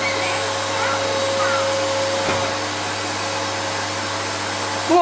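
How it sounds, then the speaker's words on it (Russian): Household vacuum cleaner with weak suction, running steadily with a constant motor hum and a high tonal whine, loud and close throughout. "Хотела пропылесосить вчера, а пылесос плохо тянет."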